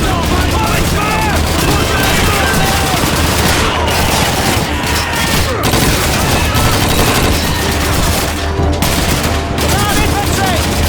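Gunfire in the World War II shooter Call of Duty 2, dense sustained rifle and machine-gun fire with booming blasts and shouting soldiers over the din.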